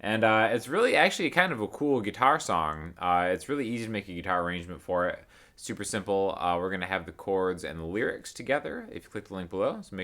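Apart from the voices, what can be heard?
No distinct noise like a dog, phone or traffic.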